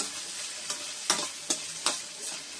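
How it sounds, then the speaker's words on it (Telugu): Mustard seeds sizzle in hot oil for tempering, a soft steady hiss broken by several sharp popping crackles spaced through the short stretch, close and fairly quiet with no talking. "పోపు కోసం నూనె, ఆవాలు"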